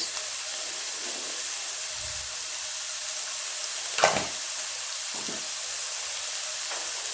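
Okra fries in a pan with a soft, even hiss, a couple of brief louder scrapes marking stirring midway, close but quiet and with no speech.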